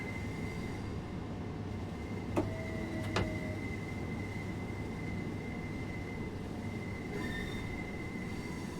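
Train arriving at a station in the simulator game Train Sim World 2: a steady rail rumble with sustained tonal squeal and two brief sharp clanks, continuous and fairly close throughout.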